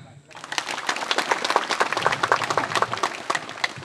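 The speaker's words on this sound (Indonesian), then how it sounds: "Tepuk tangan." An audience claps at a ceremony inaugurating a sacred site, steady dense applause that starts abruptly and holds throughout.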